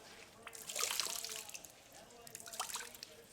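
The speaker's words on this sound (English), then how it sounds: "So I'll wring most of it out," Water trickles and drips from a wet rag being wrung out over a bucket, a faint, close splash near the start and another brief patter toward the end.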